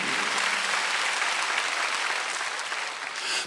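Church congregation applauding during a Korean Wednesday worship sermon, a full even roar of many hands clapping that holds steady before cutting off abruptly.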